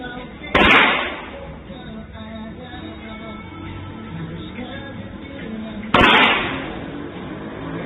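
Two sharp, loud gunshots from a military weapon firing drill ring out about five seconds apart, each with a decaying echo, over a steady outdoor background.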